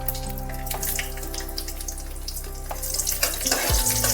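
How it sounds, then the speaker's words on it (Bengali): Bay leaves, panch phoron and dried red chillies hit hot oil in a pan, giving a steady close sizzle and hiss that swells louder near the end, with no voices. "তেলের মধ্যে দিয়ে দিচ্ছি দুটো তেজপাতা আর দিয়ে দিচ্ছি পাঁচ ফোড়ন সাথে দুটো পাকা লঙ্কা ফোড়ন"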